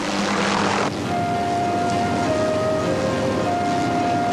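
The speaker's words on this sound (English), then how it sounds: "I set out on a helicopter ride deep into the heart of pristine Kipahulu rainforest" A loud, steady mechanical drone of a helicopter flying over the Kipahulu rainforest in Hawaii fills the scene, with a constant whirring hum and faint tonal whine throughout.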